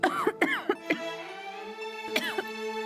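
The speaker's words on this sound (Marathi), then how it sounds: "हे काय खोकायला काय झालंय?" Several sharp coughs in quick bursts, up close, with a voice between them and a steady tonal hum underneath.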